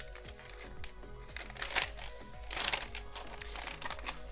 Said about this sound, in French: j'espère que le bruit du papier s'entendra pas trop